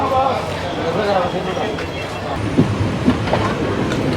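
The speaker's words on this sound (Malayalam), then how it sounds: "നമുക്കിപ്പോൾ ഉള്ള വണ്ടി വന്നു കേട്ടോ കൊണ്ടുവന്ന് മധുര വണ്ടിയാണ്" A train departing Sengottai railway station rumbles and clacks steadily with a few metallic squeaks, while people talk nearby over the continuous rolling noise.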